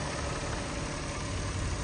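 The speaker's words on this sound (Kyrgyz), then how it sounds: "Таза иштеп турат мотор жагы." A car engine idles smoothly at close range, holding a steady, even rumble for a moment with no voices over it.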